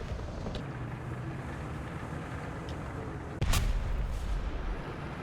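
A T-55AM-1 tank cannon fires at a Leopard tank in a video game: a single sharp, loud blast cracks out midway, followed by a rumbling tail over a low engine drone.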